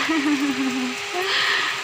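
Heavy rain pours down in a steady, dense hiss that fills the whole stretch, with a faint tonal voice-like hum briefly in the foreground.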